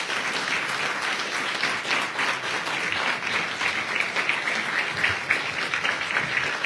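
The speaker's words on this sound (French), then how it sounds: "maire actuel, donc Benoît Apparu, qu'on peut applaudir très chaleureusement." Sustained, dense applause from a crowd at a French municipal election list presentation in Châlons-en-Champagne, steady and fairly loud throughout with no talking over it.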